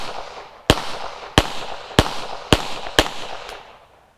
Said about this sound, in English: shooting kind of limp-wristed does the best for it